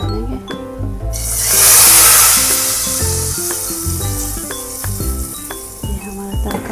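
Hot spiced oil tempering hits a pot of chicken nihari with a sudden loud sizzle that swells and then fades into softer crackling, with faint clinks of utensils beneath.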